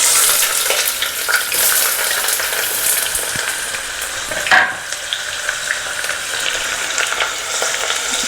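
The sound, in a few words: onions frying in hot oil in a pressure cooker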